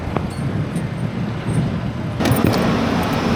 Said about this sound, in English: The first cars are already moving in over there.